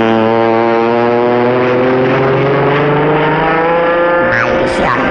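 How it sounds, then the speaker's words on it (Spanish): Cartoon car speeds off with a loud, steady engine drone whose harmonics glide upward as it accelerates away, a few sharper effects joining near the end, with no talk over it. "¿Y ese coche que huye?"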